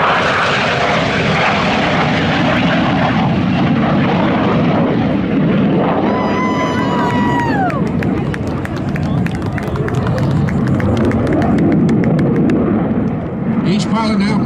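Blue Angels jets roar overhead at an air show at NAS Pensacola while flying the swallowtail maneuver, a loud sustained engine rush with a falling pitch sweep as they pass, and an announcer speaks over it.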